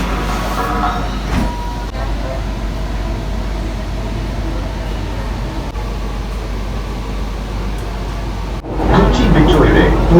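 A Kochi Metro train runs with a steady, loud rumble of wheels and carriage noise from inside, with a brief break near the end and then a burst of louder rolling sound.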